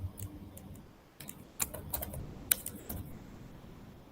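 Keys clack on a computer keyboard in uneven, quiet bursts of taps with short pauses between, close to the microphone against a soft room hiss.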